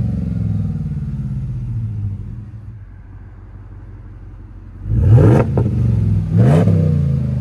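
A car engine fitted with a Flowmaster Signature Series exhaust idles with a deep, loud rumble, then revs sharply twice, each blip climbing and falling quickly.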